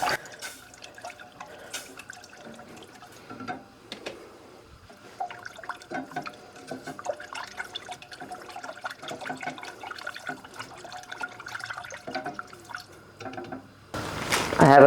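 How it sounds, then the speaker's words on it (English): Milk is poured into a pot in a kitchen with a faint, steady liquid trickle and splashes, along with small clinks. A louder splash comes at the very end. "We'll put about a total of maybe 2 cups of milk."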